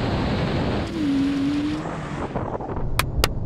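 Porsche Taycan Turbo S electric car accelerating hard in a drag race against a Porsche 911 Turbo S, a loud steady rushing drive noise with a rising whine, ending in a couple of sharp clicks.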